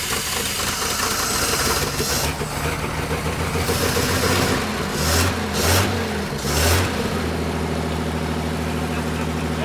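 An abandoned 1947 Dodge truck engine runs loudly up close, rumbling and revving in surges with voices calling over it.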